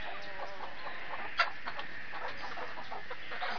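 Chickens cluck steadily inside a coop, a soft continuous chorus of hen calls with one brief sharper squawk, heard alone with no talking.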